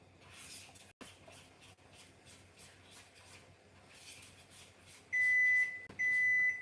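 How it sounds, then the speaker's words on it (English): A kitchen timer beeps in two sharp, steady electronic bursts near the end while dinner cooks, following quiet rubbing and scraping sounds in a home kitchen. "The timer's going to go off for us to check in on them."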